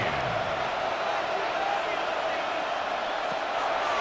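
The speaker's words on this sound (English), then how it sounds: "The crowd cranking it up another notch before 3rd and long." A big stadium crowd at an American football video game roars in a steady, dense wash of cheering, with an announcer's voice faintly over it.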